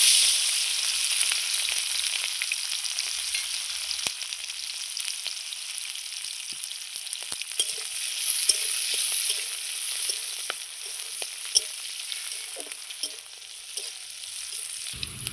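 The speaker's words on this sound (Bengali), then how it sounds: "এই যে আমার রসুন লঙ্কাটা ভাজা হয়ে গেছে খুব সুন্দর করে" Green chilies and garlic sizzle in hot oil in a pan, a steady bright crackle with occasional sharp pops and stirring clicks, close and continuous with no one talking.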